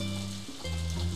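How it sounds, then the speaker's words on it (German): Rain falling in the farming game Harvest Moon: A Wonderful Life, a steady hissing patter over a low game hum, brief and fairly faint, with a short dip partway through. "Regen, Regen, Regen."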